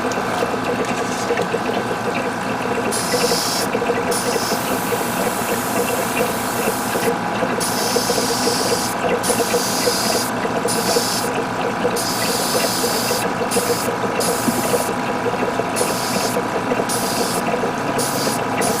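An air compressor for spray painting a Gundam model runs continuously with a steady mechanical chugging hum, close by and unbroken for the whole stretch, with no voices.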